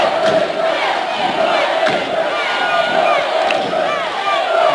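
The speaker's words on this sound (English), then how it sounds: "Dueling cheers here, both teams with big crowds." Rival crowds at a high school volleyball regional match chant and cheer loudly in an indoor gym, rhythmic shouted cheers overlapping throughout.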